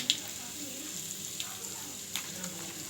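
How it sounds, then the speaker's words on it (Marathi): Onion and turmeric frying in hot oil, a soft, steady sizzle and crackle with a few brief louder pops. "हे मस्त तळून घ्यायचं तेलामध्ये चांगल्या प्रकारे तळून घ्यायचं"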